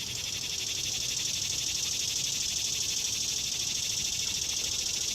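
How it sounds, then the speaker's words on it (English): A frog near the water outdoors on a summer morning in a park, heard as a steady, even chorus of high trilling calls that runs without a break, with no voices. "There's that frog."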